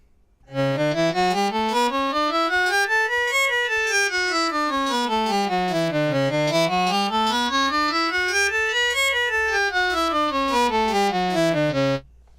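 A bright, sustained synthesizer chord, a microtonal diminished chord in 29-tone equal temperament, glides smoothly up and down in pitch twice, loud and alone, with no talking.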